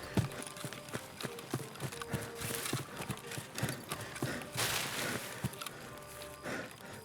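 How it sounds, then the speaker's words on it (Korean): Escape from Tarkov footsteps during a night raid: a steady run of rhythmic, hard-edged thuds, fairly close and moderately loud, over a low background rumble. "발소리 나네"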